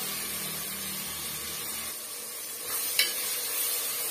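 Tomato stirring into goat leg kuzhambu in a pan, a constant close hiss of cooking with one brief clink of the spoon near the end, and no voices.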